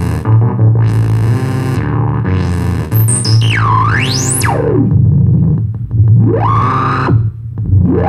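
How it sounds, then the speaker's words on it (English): Korg Volca Bits synthesizer plays loud, distorted electronic tones over a repeating low bass pattern, with wild pitch sweeps swooping up and down, close and with no voices. "You hear the Volca bits now."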